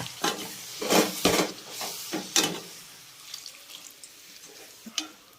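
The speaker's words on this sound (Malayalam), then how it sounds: "അരപ്പ് കരിഞ്ഞു പോകാതിരിക്കാൻ ശകലം വെള്ളവും കൂടെ ഒഴിക്കുക." Water splashes into a hot pan of frying spice paste for a Kerala-style tapioca biryani in a few bursts, followed by softer intermittent sizzling and stirring.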